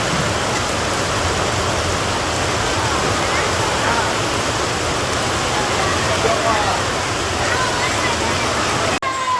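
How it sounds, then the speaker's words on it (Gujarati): Dense, continuous roar of heavy rain pouring down, loud and unbroken, cutting off abruptly at the very end. "ચાલુ વરસાદ છે"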